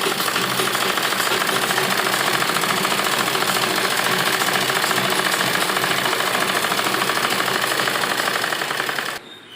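A sewing machine running a double line of stitching on a lined A-line palazzo, a loud, fast, unbroken mechanical rattle held for about nine seconds before stopping abruptly.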